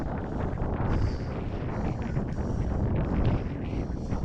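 Steady wind on a lake buffets the microphone in a continuous low roar, with faint rustling and slight swells in loudness throughout.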